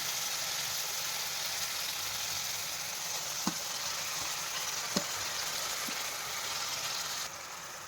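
Curry leaves and blender-chopped onions fry in a pan for an egg curry, a steady, close hiss of sizzling oil throughout with a few faint utensil taps.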